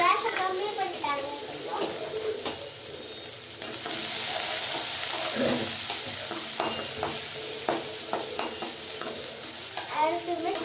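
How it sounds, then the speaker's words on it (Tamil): Onions sautéing in a pan at home, a steady close sizzle with scraping stirs throughout, while voices talk over it. "நல்லா வதக்குறாங்க."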